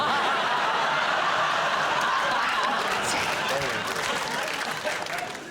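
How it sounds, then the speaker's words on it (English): Studio audience of a British comedy panel show breaks into steady, loud applause mixed with laughter, the dense clapping filling the whole stretch and fading slightly at the end. "Why are you clapping?"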